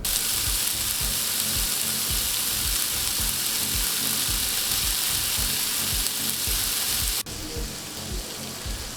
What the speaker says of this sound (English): cook that down until it's nearly crisp and fully rendered out.